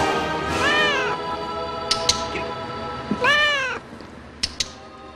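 Cat meowing for the computer-animated cat in Disney's Hocus Pocus: two long, drawn-out meows, loud and close, separated by a few soft clicks and taps, with no talking.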